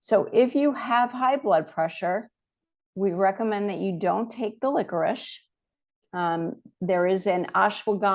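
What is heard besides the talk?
No everyday noises stand out.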